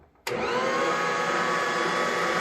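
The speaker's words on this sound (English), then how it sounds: "Turn the mixer on and add flour." An electric mixer switches on abruptly and then whirs at a steady high pitch while flour is added for a buttermilk dough, close and loud with no talking.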